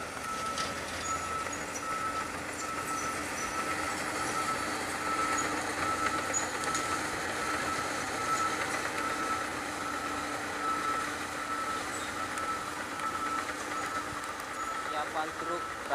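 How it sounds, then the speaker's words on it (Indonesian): A garbage truck at a waste collection and dumping site by the Palembang–Jambi toll exit rumbles continuously as it moves off, with a steady electronic reversing beep repeating throughout, and people talking over it. "Truk berangkat guys."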